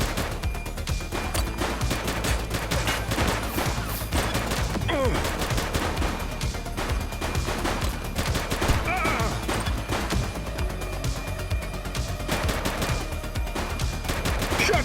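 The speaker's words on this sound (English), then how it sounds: "Shots fired!" A police shootout in The Precinct video game, with dense, rapid gunfire crackling continuously and loudly throughout, bursts overlapping with no real pause.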